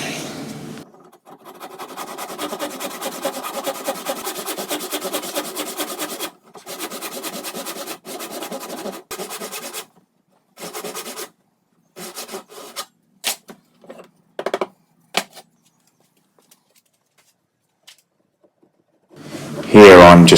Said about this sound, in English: now I'm starting to cut the tenons